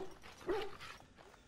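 A dog in the Dragon Age video game gives a faint, short bark and yip, with a few quieter whimpering sounds trailing after, heard alone at low volume.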